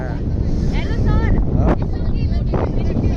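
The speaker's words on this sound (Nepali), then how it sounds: "सरर हावा आइदिरहेको क्या" Strong wind on a long suspension footbridge in Jhapa, Nepal buffets the microphone in a steady roaring rush, with a few faint voices briefly audible beneath it.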